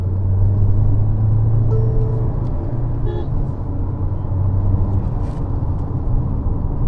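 Steady low engine drone and road rumble inside a Tata Harrier with a 1.5L turbo GDI petrol engine accelerating in sport mode, continuous and fairly loud, with faint clicks and a brief higher tone midway.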